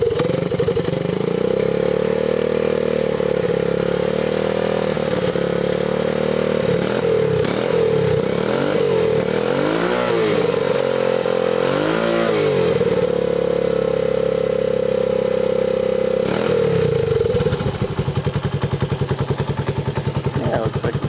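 A Honda TRX125 ATV engine, freshly revived and leaking fuel from its tank, runs at a steady, buzzy idle with several throttle blips and revs in the middle, then settles back down near the end.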